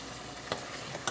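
Boiled chickpeas hit hot oil in a pan, giving a steady close sizzle with a couple of sharp crackling bursts.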